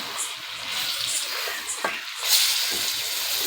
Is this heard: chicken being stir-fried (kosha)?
yes